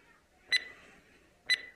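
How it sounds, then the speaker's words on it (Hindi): A timer starting in an animated beetle-removal treatment scene gives two short, bright electronic beeps about a second apart over near silence. "तो फाइनली टाइमर चलना चालू हो गया है"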